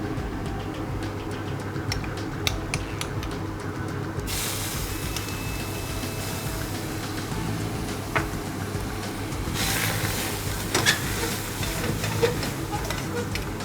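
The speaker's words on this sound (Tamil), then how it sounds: "இது நல்லா சாட்டே பண்ணிக்கிறோம் நம்ம." Chicken masala sautés in a pan for a village-style chicken fry, producing a continuous low sizzle and hiss with occasional stirring scrapes and a brief brighter burst later on.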